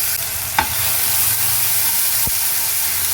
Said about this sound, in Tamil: இப்போ அதில் 1 ஸ்பூன் இஞ்சி பூண்டு பேஸ்ட்டு போடுறோம்.